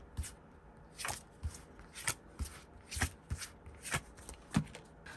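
Tarot cards being shuffled and drawn by hand, a series of quick close riffling bursts and soft card snaps in an irregular rhythm, with no talk.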